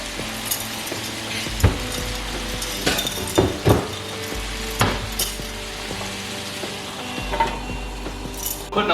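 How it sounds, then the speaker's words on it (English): Beef, carrots and onions sizzling in a pan, a continuous close frying hiss broken by scraping stirs and occasional clinks of utensil against cookware. "I'm gonna start mixing the carrots and the onions back in with the rest of the beef"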